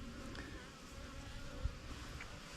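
Honeybees hum steadily around a Flow Hive, a faint continuous buzz with no talking.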